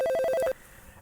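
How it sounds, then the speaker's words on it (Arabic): An electronic telephone ring trills in a rapid burst of pulsed tones for half a second, loud and close, then cuts off abruptly into quiet room tone. "بالله دقيقة ما يرن التلفون"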